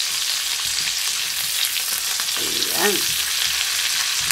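Onion sautés in oil seasoned with fish sauce for a bitter melon and kidney bean dish, giving a steady broadband sizzle with a brief clatter near the middle and a short spoken word.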